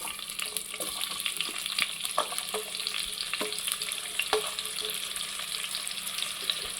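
Chopped onions sizzling in hot oil in a pan while cooking bendakaya curry, a steady close crackling fry with occasional stirring scrapes, no talk.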